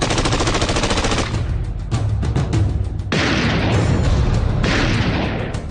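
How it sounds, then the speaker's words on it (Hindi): Rapid machine gun fire from the Kargil war rattles in loud, dense bursts, with sharp repeated shots that give way to booming blasts and echoing reports across the valley. "गोलियों की बौछार थी"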